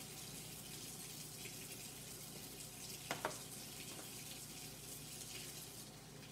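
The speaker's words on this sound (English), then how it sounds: "just rinsing my hands really quickly here" Steady running tap water as hands are rinsed under it at a sink, a continuous close wash with a couple of brief splashy bumps midway, no talking.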